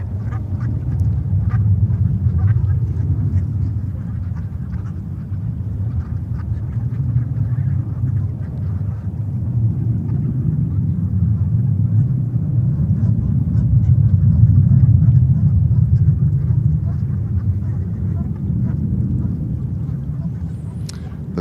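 An Aer Lingus airliner arriving at New York JFK from Dublin, a steady low rumbling roar that swells and ebbs over twenty seconds, heard from a distance with faint background activity.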